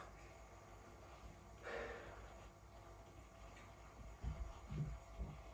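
One quick, quiet nasal sniff over a glass of Glenfiddich 14 Year Old Bourbon Barrel Reserve whisky, close to the microphone in a hushed room, followed by a few soft low thumps.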